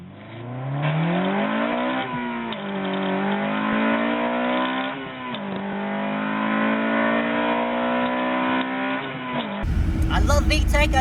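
A Toyota Celica GT-Four turbo drops from fifth to third and pulls hard, its engine climbing loudly in pitch through several surges and gear changes, heard from inside the car and ending in a burst of louder noise.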